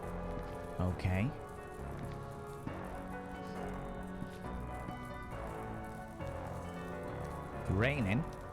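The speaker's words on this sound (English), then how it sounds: "Raining." Rain falling in the Sucker for Love video game, a soft continuous patter under a music-like background, with brief sliding tonal chirps near the start and end.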